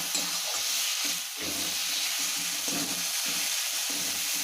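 A spoon stirs rui fish curry with tomato and chilli powder in a frying pan, scraping in an uneven rhythm over a steady, close sizzle of frying.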